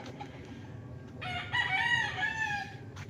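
A rooster on a farm in Nagcarlan, Laguna, crows once, clear and mid-distance, with hens clucking and farmyard noise around it.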